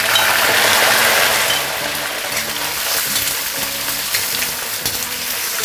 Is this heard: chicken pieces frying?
yes